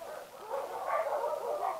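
Dogs bark repeatedly near a motorcycle taxi stop on a Philippine street, a run of overlapping yaps and bow-wows at moderate distance with no talk over them.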